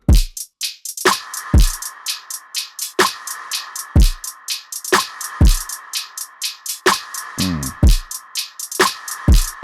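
Soloed electronic drum pattern from a track drop: punchy kicks and sharp snare or clap hits in a steady, syncopated rhythm with busy hi-hats, one short pitched roll near the end, loud and dry with no voices.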